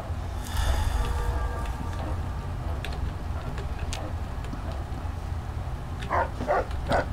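A dog in Fallout 3 barks in a short cluster of three or four quick barks near the end, over a low rumbling game ambience with faint ticking sounds before it.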